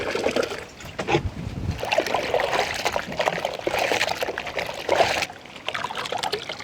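Beef liver is rinsed under running water, a close trickling and splashing of water that comes in uneven bursts with short pauses.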